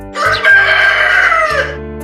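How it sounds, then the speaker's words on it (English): A single loud, close rooster crow, drawn out for over a second with a falling end. "Rooster,"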